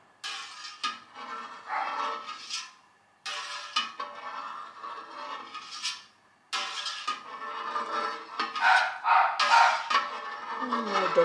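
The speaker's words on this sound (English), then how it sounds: "Doggies." Several dogs bark in loud, repeated bursts with short pauses between volleys, nearby and overlapping with people talking.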